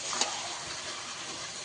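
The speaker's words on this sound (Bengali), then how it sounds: "ভালো করে আমি ঝিঙে দিয়ে কষিয়ে নিয়েছি" Ridge gourd sautéing in a pan for a fish curry, a steady soft sizzle with light stirring scrapes and one brief clatter near the start, close and alone without voices.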